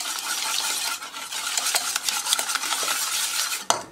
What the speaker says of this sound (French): on y ajoute le jus de citron, le beurre fondu, on mélange comme il faut